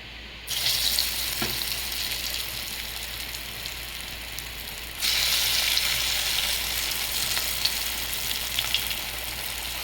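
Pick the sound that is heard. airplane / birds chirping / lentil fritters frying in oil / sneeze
lentil fritters frying in oil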